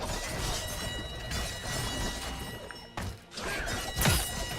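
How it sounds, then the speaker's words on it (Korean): A critical hit lands in a video game with a punchy, shattering thud, followed by more impacts and swooshing effects amid busy game noise. "퍽 소리 나면서 크리 데미지가 뜨거든."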